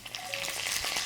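Curry leaves dropped into hot oil in a pan already holding urad dal, chana dal, dried red chilli pieces, cumin and mustard seeds for a Telugu mixed vegetable curry, giving a steady, close sizzle and crackle with no talking.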